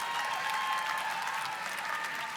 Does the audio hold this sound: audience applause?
yes